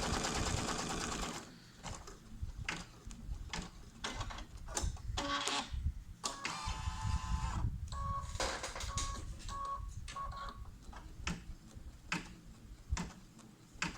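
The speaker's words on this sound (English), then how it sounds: "So I'm running the placement stitch for my cards right now." A sewing machine runs a placement stitch for the card slots on a 4x9 snap tab leather wallet, giving a rapid, steady mechanical chatter with brief pauses and restarts, close and alone with no talk.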